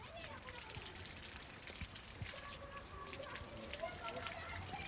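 Rain falling in a village, a dense patter of drops on surfaces, with scattered clicks and distant voices mixed under the steady wash.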